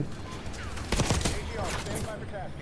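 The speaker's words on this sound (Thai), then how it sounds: "เนี่ยคือแบบพีกออกไปยิงหนึ่งนัด แล้วก็กลับกลับออกมา" Gunfire in the video game Call of Duty Black Ops 6, a short burst of sharp cracks clustered mid-clip over a low game background, with a brief voice present.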